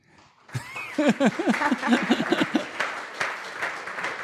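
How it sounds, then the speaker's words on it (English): Applause from a conference audience at keynote lectures and student awards starts after a quiet moment and builds quickly, with a voice speaking and some laughter over the clapping. "You may applaud."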